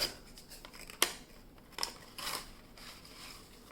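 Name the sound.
unwrapping a Yu-Gi-Oh! card deck package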